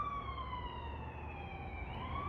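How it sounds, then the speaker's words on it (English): A police car siren wails from a distance in Canada, its rising and falling tone sweeping steadily over faint background traffic rumble. "when I hear sirens"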